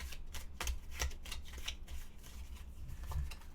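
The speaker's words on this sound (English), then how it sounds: "Let's do a quick shuffle." A deck of cards for the Fallout board game is shuffled close up, a quick series of crisp riffling flutters and taps over a few seconds, quiet and alone.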